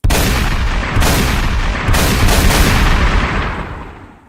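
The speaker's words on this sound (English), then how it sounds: "Gunshots." Loud gunshots in quick succession, several sharp broadband bursts stacked over a dense booming rumble, played as a sound effect with no talk and fading out at the end.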